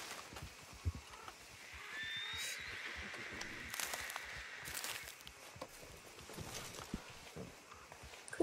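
A horse in Red Dead Redemption 2 gives a faint whinny amid soft hoof clops and footsteps, heard quietly at a moderate distance against a hushed outdoor backdrop.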